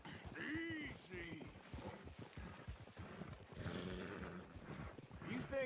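Horses walk with soft, uneven hoof clip-clops in the Red Dead Redemption 2 video game, sitting under nearby character dialogue.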